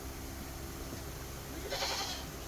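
Goats, including young kids, bleating in a homestead yard, a single faint bleat standing out briefly over steady background noise, no talking.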